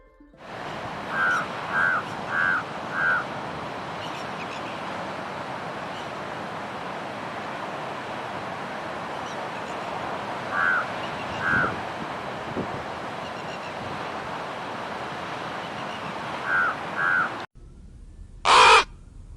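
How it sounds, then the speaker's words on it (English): Crows cawing outdoors over steady wind noise, a run of four harsh caws early, then scattered pairs of calls later, moderately near, ending with one loud close caw after a cut. "They use a variety of vocalizations and body language to convey different messages, such as warning calls to alert others of potential danger"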